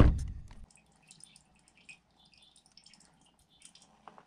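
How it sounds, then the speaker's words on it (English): Fuel drips into a container while the fuel filter on a Ford truck is drained, giving a short splash and then sparse faint drops against a quiet background. "this is the filter I'm draining right now"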